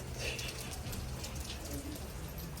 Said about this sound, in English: Well, it's raining, so we're kind of stuck inside for a minute or two